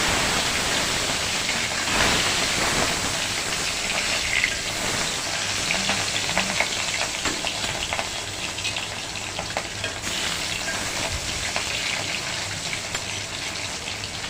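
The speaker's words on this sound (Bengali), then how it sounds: "মাছ আমি ভালো করে ভেজে নেব।" Fish fry in a hot wok, giving a continuous dense sizzle with faint crackles and stirring, steady and close with no voices.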